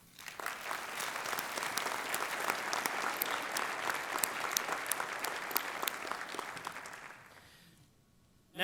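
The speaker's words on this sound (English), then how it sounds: "Let's show how much we appreciate these folks in business with your applause." Applause from a city's State of the City audience honoring local residents and businesses, many hands clapping steadily for several seconds before fading out into quiet.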